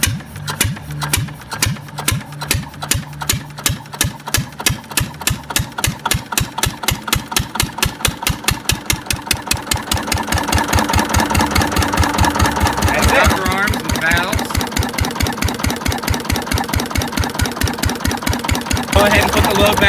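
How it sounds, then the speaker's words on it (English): An old low-RPM single-cylinder engine runs with a steady, rhythmic chuff of evenly spaced beats that speed up and merge into a louder, denser mechanical clatter. The sound is close and continuous. "low RPM engines, 300 to 1800 RPM, for reliability over efficiency"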